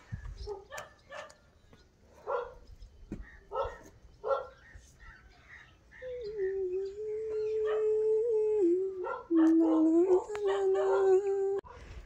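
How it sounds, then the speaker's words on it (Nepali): Several dogs bark and howl in a village setting: sharp bursts of barking come and go in the first half, then a long sustained howl rises and wavers to the end, fairly close and loud, with faint voices underneath. "भुक्छ, सब भुकिरहेछ।"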